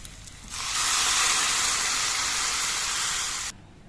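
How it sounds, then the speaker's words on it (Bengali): Hot water goes into a pan of spices and potatoes frying for a fish head curry, setting off a sudden loud rushing hiss that holds steady for about three seconds and then cuts off sharply. "আলু দিয়ে আর মশলা দিয়ে কিছুক্ষণ কষিয়ে নেওয়ার পর এর মধ্যে আমি গরম জল দিয়ে ঝোল দিয়ে দিচ্ছি"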